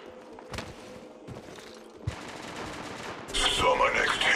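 Gunfire in the Apex Legends Mobile game, a few scattered shots early then a continuous loud burst of automatic fire building toward the end.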